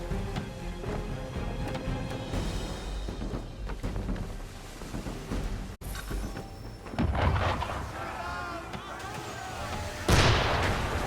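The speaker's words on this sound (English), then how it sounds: "Why is he shooting at us?" Ship cannon fire booms in Assassin's Creed 3, heavy low thuds and blasts over continuous background music and ambience, with a louder burst near the end.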